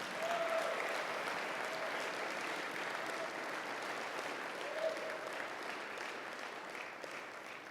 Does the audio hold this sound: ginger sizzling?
no